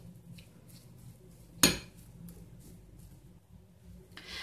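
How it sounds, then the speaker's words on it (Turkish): A spoon stirring mashed potato filling seasoned with olive oil and spices in a bowl for börek, with quiet scraping and one sharp clink of metal against the dish. "Şimdi bunları güzelce karıştırıyorum."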